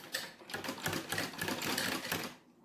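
Sewing machine stitching a lined blouse, a quick close rattling run of needle strokes lasting a couple of seconds before stopping.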